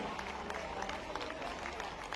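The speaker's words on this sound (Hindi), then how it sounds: "आपकी तालियां पर्याप्त नहीं है इस उदारता के लिए" A large crowd applauds at a Mahavir Janma Kalyanak festival event in Bhopal, a continuous, even roar of clapping heard from within the gathering.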